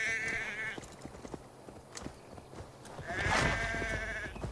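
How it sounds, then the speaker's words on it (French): A sheep bleats in the Assassin's Creed Valhalla video game, two wavering cries, one short near the start and a louder one near the end, over soft game ambience and light hoof-like taps. "Le mouton me suit quand je siffle."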